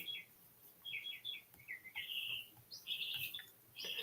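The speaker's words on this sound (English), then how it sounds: "the birds are showing off right now" Birds chirp and tweet outdoors in quick repeated bursts, moderately distant and fairly faint over a low background hum.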